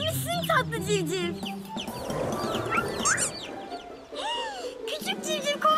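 Cartoon chicks chirp and cheep in quick high calls alongside clucking fowl, mixed with music and other animated sound effects.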